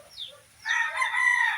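Backyard chickens kept by a Filipino poultry raiser: a short cluck, then a loud rooster crow close by, rising and holding to the end.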